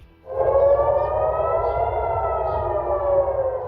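An air raid siren in Israel swells up quickly and holds a long, steady wail, loud and unbroken.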